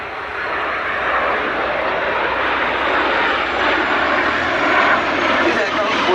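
A military jet roars past during a topside pass at an air festival, a loud, steady broadband engine rush that holds strong throughout.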